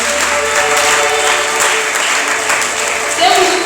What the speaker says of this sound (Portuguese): Aplaudimos fortemente e aplaudimos fortemente.